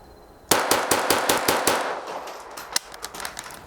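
A Kriss Vector KV22 .22LR pistol fires M22 rounds, seven sharp shots in quick succession, loud and close, followed by fading echoes and a couple of softer clicks.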